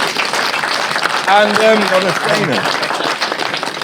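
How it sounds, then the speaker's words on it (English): An audience at a live Royal Ascot preview event at Newsells Park applauding a panel of racehorse trainers, steady crowd clapping under a host's amplified voice speaking over it. "Give them a big round of applause."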